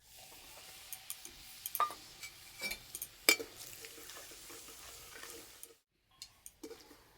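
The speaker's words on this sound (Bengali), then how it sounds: "আদা রসুন একটু ভালো করে ভেজে নেব" Ginger, garlic and ground spices (chilli, coriander, cumin, turmeric) frying in a pan for a cauliflower dish, a quiet low sizzle broken by sporadic spoon clinks and scrapes against the pan, with a brief silent gap near the end.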